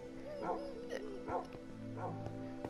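Short, high-pitched dog barks and yips in a noisy cartoonish game scene, four or five quick calls spaced about half a second apart over a low background, with faint voices mixed in.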